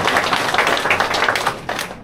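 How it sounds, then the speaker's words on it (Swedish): A live podcast audience at the Elmia caravan and motorhome fair claps for a couple, a short burst of fairly close, lively applause from a small crowd that tapers off. "det är värt en applåd alltså"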